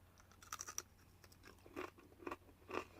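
A few crisp crunches and bites of cooked bacon, close and fairly quiet, arriving in short bursts with pauses between them and no talking.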